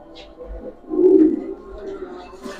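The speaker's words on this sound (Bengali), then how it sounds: "এটা রানি, রানি হাই ফুলার কবুতর।" A High Flyer pigeon at a pigeon farm gives one low, rounded coo close by, swelling for about half a second amid quieter rustling and faint background sounds.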